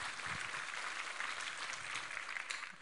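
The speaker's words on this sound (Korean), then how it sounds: "우리 하나님께 감사와 영광의 박수를 올려드리겠습니다" Congregation applauding in a Korean church after a prayer, a steady dense wash of many hands clapping at moderate volume throughout, without talk.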